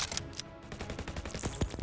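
Gunfire rattles during an urban rescue raid on an insurgent-held compound, a quick run of sharp cracks and bursts packed into under two seconds, moderately loud and somewhat distant.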